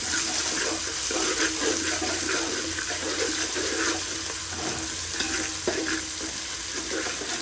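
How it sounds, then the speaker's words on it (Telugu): Water poured into a pot of fried ginger-garlic paste and spices for kichidi, a steady running splash with sizzling and stirring under it, close and continuous throughout. "సో ఇప్పుడు వాటర్ తీసుకుంటున్నాను."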